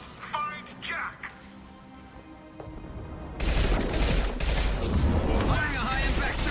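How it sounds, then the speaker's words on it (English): Sustained heavy gunfire and impacts from the sci-fi shooter game Mass Effect 2 fill the second half, loud and dense after a quieter stretch of scattered game sounds and faint voices. "Firing a high impact shot."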